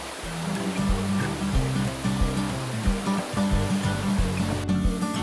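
River water flows steadily at a fishing spot for snakehead fish, a dense continuous rush close by with a low rumbling layer underneath and no speech.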